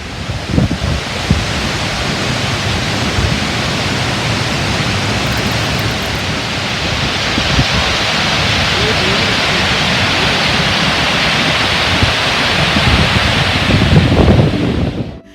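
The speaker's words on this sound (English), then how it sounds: "the sound of the water is deafening." Deafening rush of water pouring over a dam, a dense, loud, continuous roar holding steady throughout with no break.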